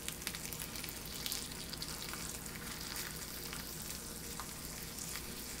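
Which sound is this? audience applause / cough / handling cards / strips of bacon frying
strips of bacon frying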